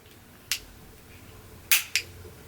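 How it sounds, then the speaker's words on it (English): A replacement lens pops into a Spy Discord sunglass frame, three sharp faint snapping clicks, one alone and then a close pair, against quiet room tone. "Now you should hear a popping sound."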